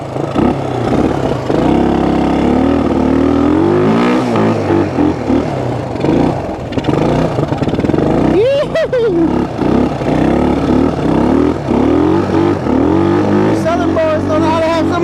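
Honda XL175 dual-sport motorcycle engine revving hard in snow as the rear wheel spins, the loud buzzy drone rising and falling continuously beneath excited shouting and cheering voices.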